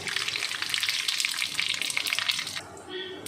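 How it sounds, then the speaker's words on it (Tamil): Mustard seeds crackle and splutter in hot oil, a dense, close popping sizzle that carries on steadily, then eases at the end. "கடுகு பொரிஞ்சிருச்சு"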